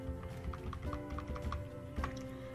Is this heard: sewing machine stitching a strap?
no